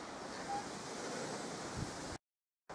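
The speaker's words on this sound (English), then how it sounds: "A bit windy." Wind blows across a garden lawn and patio, a faint, steady rushing hiss that fills most of the clip before cutting to brief silence and returning.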